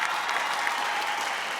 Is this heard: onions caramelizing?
no